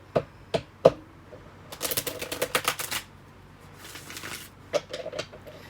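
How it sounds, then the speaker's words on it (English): Crisp riffling bursts of tarot cards being shuffled, a few sharp taps followed by a longer flurry, close and fairly quiet with no talking. "Let's shuffle these cards a bit."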